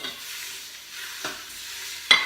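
Meat for picadillo sizzles steadily while sautéing in an Instant Pot, with a couple of brief scraping stirs; no talking.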